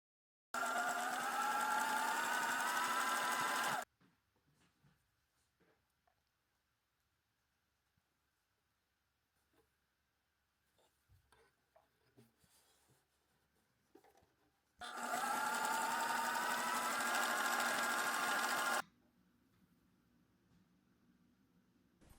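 Sewing machine zigzag stitching elastic onto fabric near a picot edge, two loud runs of whirring stitching a few seconds each, separated by a long quiet pause with faint handling taps.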